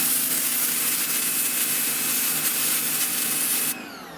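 A Sunpow BCN-H pressure washer with the red nozzle blasts lichen off a surface, a loud steady hiss of spraying water that cuts off abruptly near the end.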